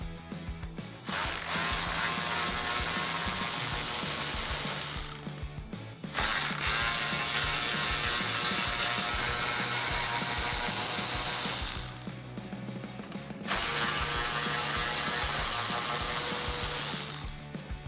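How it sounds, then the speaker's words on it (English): A ratchet with a 10mm socket loosens the top grille bolts on a 2018-2020 Ford F150. It gives rapid clicking in three long bursts with short pauses between them, close and clear. "grab your 10mm socket and remove the 4 bolts located on the top"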